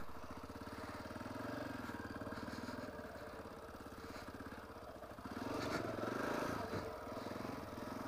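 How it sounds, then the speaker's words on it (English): Motorcycle engine running steadily at a moderate distance with a low, even putter that swells briefly louder near the end as the bike moves off. "Bike seems to be running good right now."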